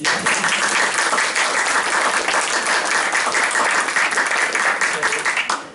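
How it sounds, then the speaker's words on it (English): A room full of people at a school district board meeting clapping together, steady and sustained applause that fills the whole stretch and fades slightly at the end, with faint voices mixed in. "So let's clap for Ray."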